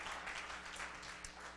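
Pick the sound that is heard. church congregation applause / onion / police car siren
church congregation applause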